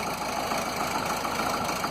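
A Land Rover Series 2a 88 with a 2.25 diesel engine and one faulty injector idles steadily, a continuous close clatter and rumble with no voices.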